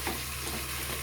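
Ground pork frying in oil in a pan, a steady close hiss and sizzle with the rustle of stirring running through the whole short stretch.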